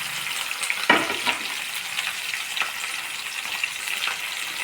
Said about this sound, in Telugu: ఆయిల్ వేడెక్కిందండి, మనకు కావాల్సిన పోపు అన్నీ వేసేసుకుందాం.